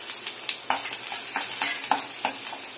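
Garlic and ginger sizzle steadily in a little oil in a pan, with a spoon scraping and stirring at intervals and no talking.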